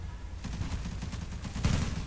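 Rapid bursts of gunfire in the online shooter Zula, with a store-bought rifle and a sniper in play, crackling densely and steadily at moderate level throughout, with a sharper, louder shot near the end.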